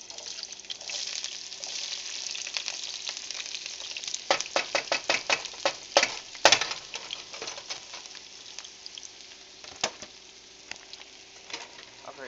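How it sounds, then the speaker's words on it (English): Chopped onion hits hot oil in a pan and sizzles with a steady hiss, crackling bursts and rapid pops clustered midway, close up with no talking. "I'm going to go ahead and add the onion. So you can hear that great, sizzle sound."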